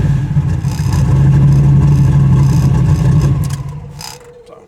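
A Willys gasser engine fed by a small carburetor runs close and loud with a steady mid-range drone and some clatter for several seconds, then fades down toward the end.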